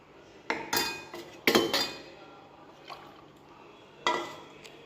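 A spoon clinks and scrapes against a pot of boiling healthy drink being stirred, giving a few sharp metallic knocks and soft scraping strokes at close range with no voices.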